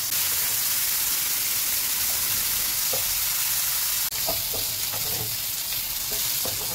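Prawns frying in a pan over a medium flame: a steady, close sizzle and hiss runs throughout, with a few light stirring clicks and pops scattered near the end, and no talking.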